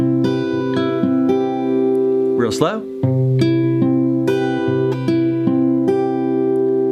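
Acoustic guitar picking a crisscross pattern over a held chord for a song, sustained plucked notes ringing clearly and evenly, with a brief spoken interjection midway over the strings.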